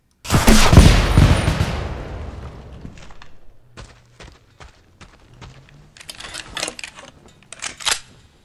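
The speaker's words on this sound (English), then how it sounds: "when you fire it at a target, it'll airburst and explode into a big cluster of" A cluster rocket in a video game fires with a loud roaring blast that decays over about two seconds, followed by a scattered series of sharp, crackling pops as the munitions burst in the air.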